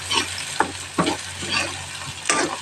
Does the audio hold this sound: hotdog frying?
yes